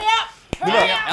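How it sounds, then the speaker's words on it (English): A single small hand clap, close and sharp, lands between stretches of children's and adults' talk in a casual setting where French hand gestures are being shown. "you can also, you can do a little clap like this"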